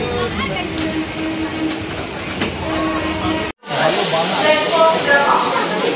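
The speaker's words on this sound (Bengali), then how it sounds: "ট্রেন চলে যাচ্ছে, এই ট্রেনটা থেকে নামলাম" A suburban commuter train rolling along the rails at a station, a loud steady rumble and hiss close by, cut briefly by a dropout and then returning as a brighter rushing roar, with voices mixed in.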